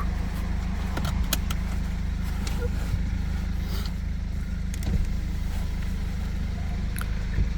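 A BMW 320d N47 diesel engine at 217,000 km with the EGR blanked off idles steadily with a low, even rumble, with faint clicks and a few small knocks over the constant drone.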